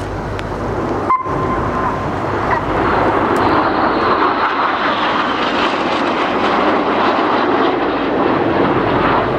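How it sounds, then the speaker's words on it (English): Red Arrows jet aircraft flying synchronised aileron rolls at an air show give a loud, building jet roar that swells and holds as the formation passes overhead, with a faint commentator voice under it. "flying synchronised aileron roll manoeuvres as they position"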